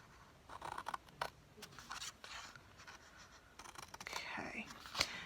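Scissors snipping a small wedge out of cardstock for a tag topper pinch box, a few close, brief cuts and rustling paper scrapes, with soft speech in the background.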